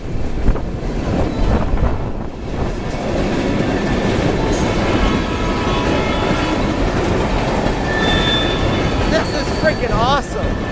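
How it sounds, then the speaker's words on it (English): A Canadian National ethanol freight train led by a standard-cab Dash 8 locomotive passes in Plant City, Florida, with a loud, steady rolling rumble, rhythmic clickety-clack of the wagons and buffeting wind on the microphone throughout. "Canadian National train in Plant City, Florida."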